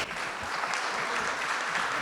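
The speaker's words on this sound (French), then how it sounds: "Vous pouvez les applaudir, je pense." An audience at a stadium opening ceremony at a college applauds a committee, steady dense clapping that fills the whole stretch at moderate distance.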